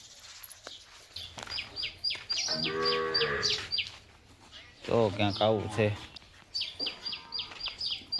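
Sparrows chirp in quick, bright repeated bursts around a home, while cattle moo loudly nearby and a person speaks briefly.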